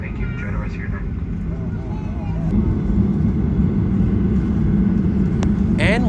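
A dense, steady roar of jet engines fills an Avelo Airlines airplane cabin after landing, a broad low rumble that swells slightly partway through, with faint voices and soft clicks on top.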